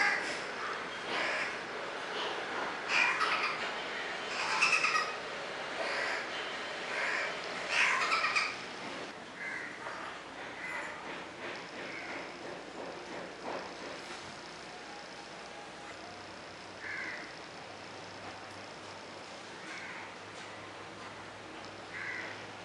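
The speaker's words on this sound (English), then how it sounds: "It was a house crow." A house crow calls repeatedly outdoors, a series of harsh, fairly loud caws in the first half that fade to fainter, spaced calls later over steady background ambience.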